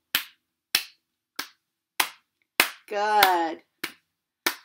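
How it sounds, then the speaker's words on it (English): Hand claps keep a steady beat with a children's music class goodbye song, sharp evenly spaced claps in a quiet room, with a short sung or spoken phrase breaking in midway. "we're going to clap. Will you clap with me?"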